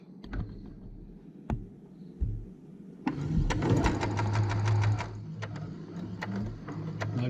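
Sewing machine stitching a peasant tunic, starting with a few quiet, scattered thumps and then breaking into a fast, steady whirring run about halfway through, fairly faint and with no talking.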